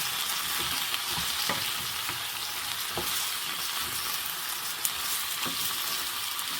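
Bok choy stalks stir-frying over medium-high heat in a pan, a steady broadband sizzle with occasional scraping clicks of a spatula turning the greens, close and continuous with no voices.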